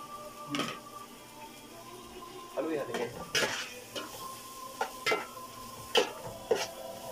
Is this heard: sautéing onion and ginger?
yes